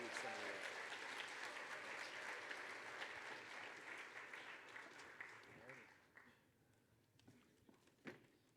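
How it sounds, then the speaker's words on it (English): An audience at a fan convention applauds contest winners, steady sustained clapping that thins out and fades over several seconds into scattered claps. "let's just keep giving a round of applause for all of our contest winners this weekend"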